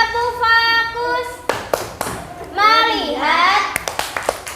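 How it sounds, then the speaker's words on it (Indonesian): A class of children in a primary school chants and claps a rhythmic focus clap together, with sharp hand claps near and loud, a run of quick claps at the end, and a teacher's voice leading. "Tepuk fokus."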